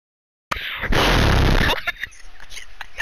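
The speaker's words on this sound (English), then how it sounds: "This fucking explosion, Jesus Christ." A loud, sudden explosion bursts in after a moment of silence, roars for about a second, then breaks into scattered crackles and debris.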